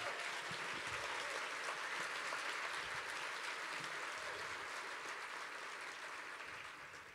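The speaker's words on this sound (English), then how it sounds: "I'd like to get another round of applause for these young gentlemen who work so hard" An audience at an Opening Day event applauds a group of young musicians, steady dense clapping that holds for several seconds before tapering off.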